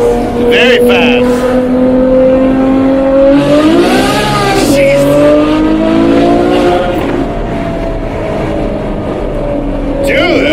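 Ferrari F12 V12 engine revving and accelerating, a loud continuous rising and falling engine tone with strong harmonics, close by, with people talking over it.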